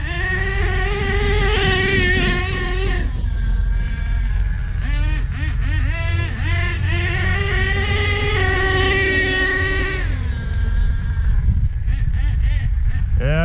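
A nitro-powered RC car on paddle tires screams across wet gravel, its high, buzzy two-stroke engine rising and falling in pitch as it revs hard and eases off, loud and close throughout.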